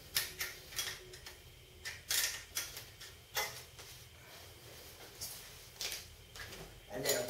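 An 8 mm wrench snugs a bolt on a 2015 Vilano folding bike, making a series of small metallic clicks and ticks with irregular spacing, close and fairly quiet, while a person talks.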